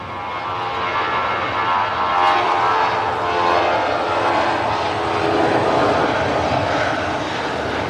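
A Jet2 airliner passes by, its broad jet roar swelling and holding steady as it moves nearby, with no one speaking over it.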